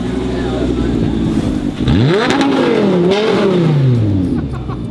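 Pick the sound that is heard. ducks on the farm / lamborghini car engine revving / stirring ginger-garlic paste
lamborghini car engine revving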